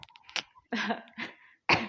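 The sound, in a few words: cough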